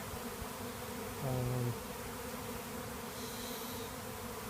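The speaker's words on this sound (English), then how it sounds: "Now I can see the bees even congregating more on the corner right here." A constant low buzzing drone of a honey bee swarm close by, with individual bees flying past the microphone, fairly faint overall.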